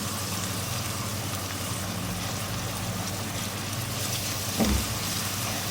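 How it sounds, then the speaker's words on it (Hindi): Cumin seeds with garlic and ginger roasting in hot oil for Lahori chickpea curry, a steady low sizzle and crackle throughout, with one brief louder knock near the end and no voices. "लहसुन अदरक जीरा डाल के मैंने इसकी भुनाई कर ली 1 मिनट।"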